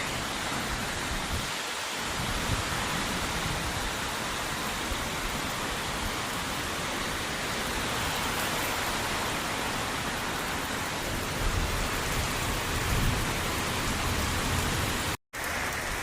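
Heavy rain pours steadily during a village storm in a power cut at dusk, a dense, continuous hiss of downpour close by with no pauses, heard alone without voices.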